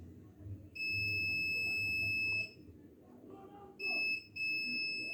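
A multimeter on continuity mode beeps while probing a laptop charging port and its ground, giving two sustained high tones with a gap between, over faint room noise.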